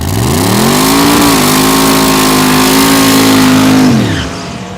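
Loud, steady rumble of big engines idling as drag cars roll to the start line, a nitrous small-block 1955 Chevrolet 210 facing a 1931 Ford Coupe, holding a constant pitch before easing off near the end.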